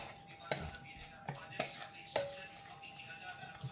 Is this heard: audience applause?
no